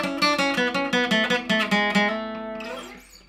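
A requinto guitar plays a fast riff of quick plucked notes in a bright, even rhythm, each attack crisp and close, then the final notes ring out and fade alone.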